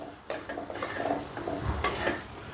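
Garlic, chili powder and cluster beans (goruchikkudu) sizzling and frying in oil in a pan, with steady close stirring and scraping of a spoon against the pot and no talk.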